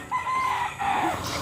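A rooster crows in one drawn-out call, close and loud, with a second rising crow following and some clucking from other fowl around it; no one talks.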